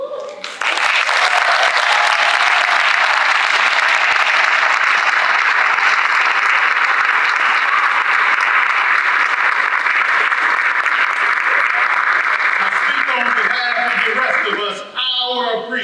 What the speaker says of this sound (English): Will all current and former educators please stand for a round of applause?